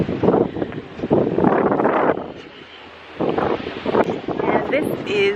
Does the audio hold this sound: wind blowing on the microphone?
yes